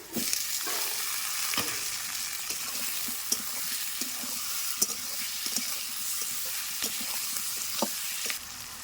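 Tomato and potato frying for a chicken curry, with a steady bright sizzle throughout and occasional crackles and stirring clicks, close and fairly loud, no talking.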